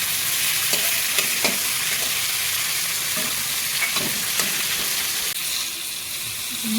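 Salt-and-turmeric-coated prawns sizzle in hot oil in a wok, a continuous close crackle with light stirring scrapes and small pops, no voices.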